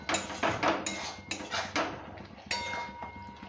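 A spoon scrapes and clinks against a cooking pan while chatpata okra is stirred, with irregular metallic taps and scraping strokes, fairly close and with no voices.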